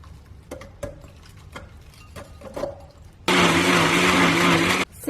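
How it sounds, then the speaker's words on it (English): Kitchen blender whirring loudly as it purées fresh ginger and garlic, a sudden steady motor drone starting after a few quiet knocks and clatters, running about a second and a half before cutting off. "So let's start by blending up our ginger and garlic."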